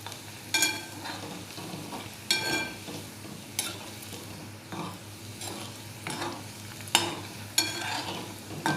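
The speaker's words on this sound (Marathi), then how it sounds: "याचे सगळे आता तळून घ्यायचे." Fasting kachori frying in hot oil over a low gas flame, with a steady soft sizzle broken by repeated stirring and scraping of the pan at irregular intervals, close and fairly quiet.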